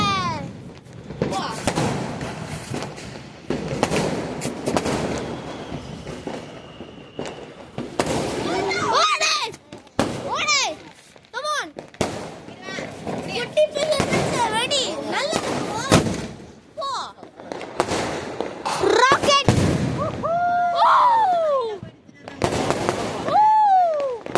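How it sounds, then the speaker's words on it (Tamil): Repeated sharp firecracker bangs and pops burst out at irregular intervals during a Diwali celebration, with people talking and shouting excitedly between and over the blasts. "இப்ப அடுத்த வெடியா யாரு வெடிக்க போறா?"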